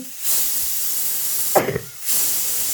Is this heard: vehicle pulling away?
no